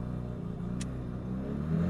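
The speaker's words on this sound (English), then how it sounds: "I'll bring the revs up" A high-idle turbocharged car engine with the clutch engaged hums at a steady low pitch, rising slightly toward the end, heard alone.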